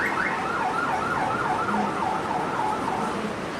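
An ambulance siren wails steadily, its rising and falling tone loud and continuous over road noise from traffic, with no talking.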